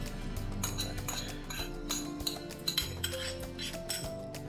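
Garlic and butter mushrooms are mixed into cooked rice for Japanese KFC chicken rice, with repeated metallic clinks and scrapes of a utensil against the pot in a quick, uneven rhythm.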